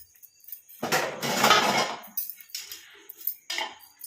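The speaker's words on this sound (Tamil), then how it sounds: "ஒரு மூடி போட்டுடலாம்." A lid set onto a container of homemade natural hair dye, a cluster of clinking, rattling contact sounds up close, followed by a few lighter knocks and taps.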